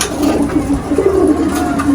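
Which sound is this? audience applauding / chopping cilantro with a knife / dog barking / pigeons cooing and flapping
pigeons cooing and flapping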